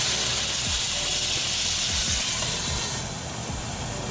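Wine poured into a hot pan steams salmon with a loud, close, sizzling hiss that stays steady and then softens slightly toward the end.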